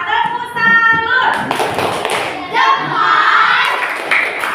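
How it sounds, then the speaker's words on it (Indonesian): Fifth-grade pupils in an elementary school classroom perform a rhythmic clapping cheer, with sharp patterned claps in bursts mixed with chanting voices, close and fairly loud. "Ayo, kita beri tepuk salut dulu untuk kita semua."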